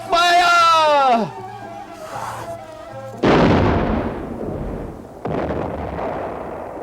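Cannon fire during the 1453 siege of Constantinople in a battle scene, two heavy booming blasts with rumbling decay following a shouted command and a tonal call, loud and close.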